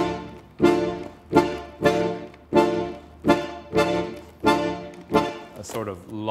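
Repeating music pattern of accented hits grouped long, long, short, cycling evenly about every two seconds, loud and alone, ending in a brief sustained tonal phrase.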